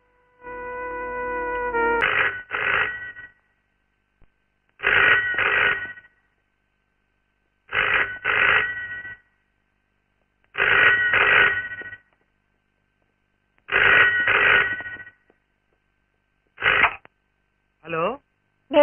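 A telephone rings in a Telugu film scene, sounding in paired electronic trills repeated about six times with short silences between, clear and close, with a brief voice or tone at the start.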